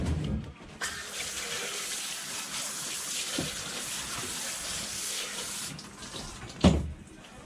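Tap water runs steadily over a large fish fillet being rinsed at a sink, a continuous hiss holding for several seconds, with a brief louder splash near the end.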